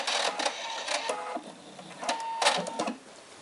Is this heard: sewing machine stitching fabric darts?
yes